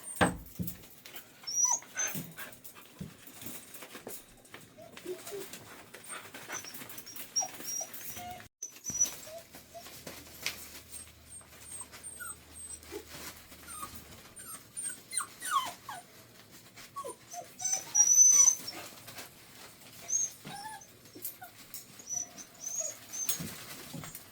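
Faint, high-pitched puppy whimpers and squeaks come and go repeatedly, with soft rustling and scattered noises around them.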